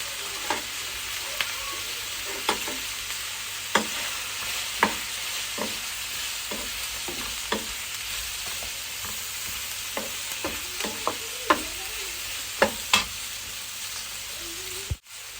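Chicken liver fries with coriander in a pan, giving a steady sizzle broken by a series of sharp utensil scrapes and taps as it is stirred.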